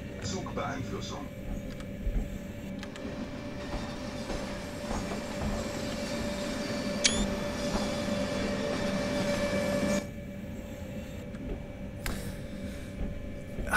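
A freight train rolls along in Train Sim World 2020 on the Ruhr-Sieg Nord line, with a steady rumble of wheels and cab noise and a brief high squeal partway through, under occasional quiet talking.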